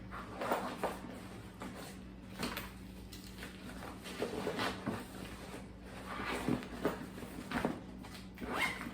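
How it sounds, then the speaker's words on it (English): A zipper is pulled closed on a Craft Cadence or North St. pannier backpack, several close rasping zip strokes in quick succession with short pauses between pulls. "Zip it up."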